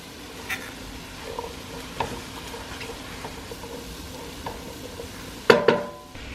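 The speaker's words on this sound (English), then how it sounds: "next I'm going to add in my onions and let all of this saute" Onions sautéing in a pan at home, a soft steady sizzle with light scrapes of stirring, and a louder clatter of the spoon or pan near the end.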